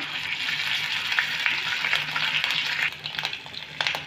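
Ground ginger fries in hot oil with a bright, steady sizzle and crackle, joined toward the end by a few light stirring taps and scrapes.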